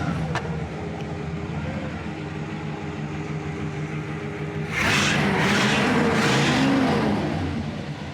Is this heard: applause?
no